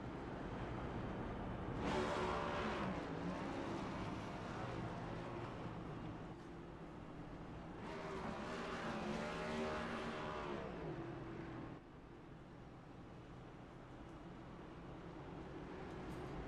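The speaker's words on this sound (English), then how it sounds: "He's revving the engine real loud." A race car engine in the iRacing game drones and revs loudly throughout at South Boston Speedway, pitch rising and falling in sustained surges with no talking.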